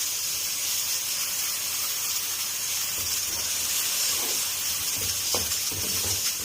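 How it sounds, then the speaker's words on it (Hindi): Two spoonfuls of ginger garlic paste hitting hot oil in a pan for rajma masala give a steady, loud, close frying hiss and sizzle that runs throughout, with small stirring scrapes near the end. "यहाँ पे हम 2 चम्मच भरकर अदरक लहसुन का पेस्ट डालेंगे"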